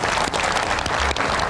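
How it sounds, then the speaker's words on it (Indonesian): Brief, loud burst of studio applause closes a televised Indonesian political talk show, many hands clapping densely and steadily up close. "Kita berikan tepuk tangan."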